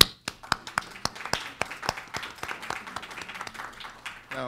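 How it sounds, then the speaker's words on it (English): An audience at a university lecture claps in a short round of applause, with distinct separate claps forming an uneven rhythm that stays moderately loud throughout. "So why don't you give yourselves a round of applause"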